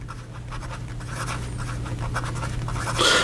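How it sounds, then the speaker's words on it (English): A Sailor 1911 Standard fountain pen with a 14K hard broad nib writes close up, making a steady soft scratching with short rhythmic strokes across the paper, alone without talk. "So here we go with the writing sample for the Sailor 1911"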